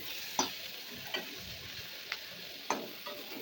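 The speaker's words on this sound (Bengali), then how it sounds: "তো দেখো নেড়ে চেড়ে আমি ভালো করে নুন দিয়ে দিচ্ছি" Soybean chunks fry with salt in a pan under a faint, steady sizzle. A spatula stirs them, and a few soft taps and scrapes come at irregular intervals, all fairly quiet.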